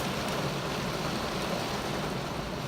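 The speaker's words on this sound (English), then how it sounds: "as the rain gets heavier" Heavy rain pours steadily in a dense, continuous hiss with a low rumble underneath, loud and unbroken throughout, with no voices.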